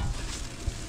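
Chopped onion and garlic sauté in a hot pan for adobo, giving a steady close sizzle with brief stirring scrapes, no talking.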